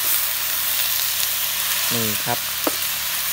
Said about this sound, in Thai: เต็มกระทะเลยนะยาย เดี๋ยวผัดไปสักแป๊บนึงมันก็จะหดเนาะ